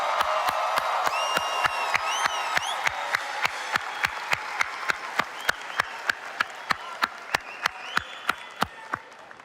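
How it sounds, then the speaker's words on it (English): A graduation ceremony crowd applauds the 2024 Doctor of Pharmacy graduates, with steady clapping, scattered whoops and a sharp, regular beat of a few nearby hands standing out over the crowd. "Let's give them a big round of applause."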